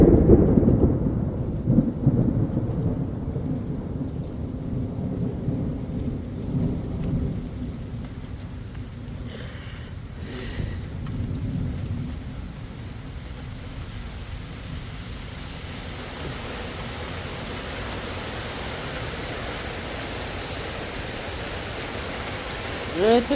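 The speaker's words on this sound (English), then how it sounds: "here comes the rain" Steady rain pours down at a park campsite as a thunderstorm rolls in, with loud rumbling thunder early on and a broad wash of rainfall continuing throughout, close and enveloping.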